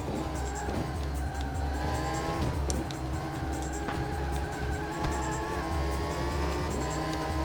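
Race car engine in the Le Mans 24 Hours game on PS2, a steady high whine with gear changes and pitch drops as it slows into braking, with faint tyre squeal, no voices.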